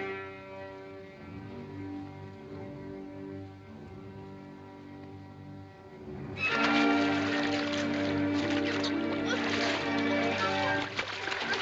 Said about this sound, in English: I'm afraid they might have heard the splash.